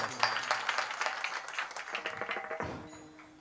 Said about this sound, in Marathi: जोरात टाळ्या वाजवा, जोरात.